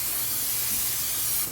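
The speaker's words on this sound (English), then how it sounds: "I'm going to spray it with a little coconut oil cooking spray" Coconut oil cooking spray hissing onto a pan on the heat, one steady close spray lasting over a second, then cut off, with nothing else heard.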